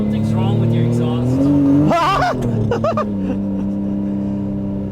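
1998 Nissan Skyline R34 GT-R accelerating on a test drive, its engine droning steadily with rising and falling pitch and a couple of sharp revving bursts and exhaust pops, while people talk inside the car.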